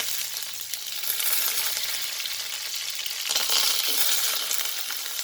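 Curry leaves and ginger garlic paste fry in hot oil for a cabbage palya, giving a loud, continuous crackling sizzle that swells midway, with no voices.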